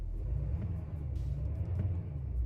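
A 2021 GMC Sierra Denali 2500 Black Diamond Edition diesel pickup idles with a steady, low, muffled engine rumble, close by and even in level throughout, with no talking.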